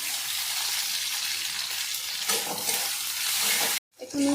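Chopped tomatoes are stirred in a frying pan, a soft steady sizzle with light scraping that swells midway and then cuts off abruptly near the end.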